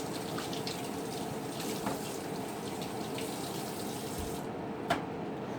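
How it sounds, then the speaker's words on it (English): Steady running tap water splashing over hands being washed at a sink, a continuous even rush close by with one brief clink near the end, no talking. "So let's get our hands washed here."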